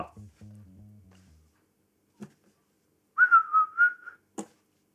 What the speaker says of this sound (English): felt like whistling